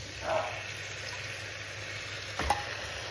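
Washed beef goes into a curry pot already holding potatoes, producing a low continuous sizzle with two brief louder splashing surges near the start and end.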